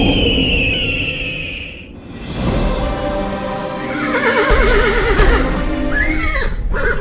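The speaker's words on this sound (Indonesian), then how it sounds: "Siliwangi tiba dengan menunggangi Jaka Kalangan, seekor kuda hitam milik Meraja Larang Tapa." A black horse lets out a loud, trembling whinny over a layered backdrop in a narrated legend, with hoof clip-clop and a second shrill neigh toward the end.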